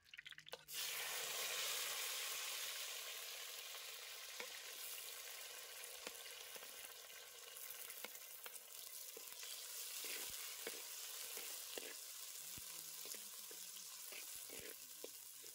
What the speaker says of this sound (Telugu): ఉల్లిపాయలను వేసి వేయించుకోవాలి.